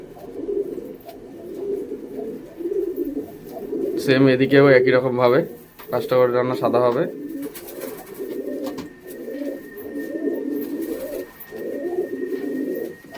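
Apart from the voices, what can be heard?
crested Sakdumа pigeons cooing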